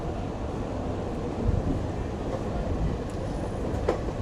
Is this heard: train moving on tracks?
yes